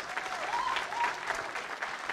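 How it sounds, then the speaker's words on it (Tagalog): A church congregation claps together in steady, sustained applause praising the Lord, a dense, moderately loud patter filling the room throughout, with faint voices mixed in. "Sige po, palakpakan natin ang Panginoon."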